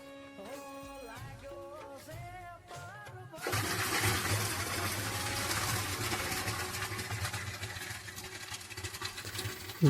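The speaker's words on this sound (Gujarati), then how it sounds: "જો કેટલું મસ્ત પાણી નીકળે છે મિત્રો ડારમાંથી." Village spring water gushing out of a hillside source in a steady, loud rushing wash that runs alone for several seconds. It follows a stretch of wavering tonal sounds.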